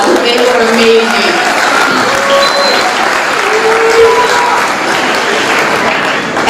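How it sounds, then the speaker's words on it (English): A large graduation ceremony crowd applauds in a dense, continuous wash of clapping that holds steady and loud throughout, with cheers rising over it. "look at them and give them a round of applause"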